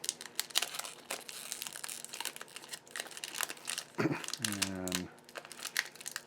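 A 1990s Topps baseball card pack wrapper being torn open, with crinkling foil-like rustles and crumpling close to the mic as someone speaks briefly over it.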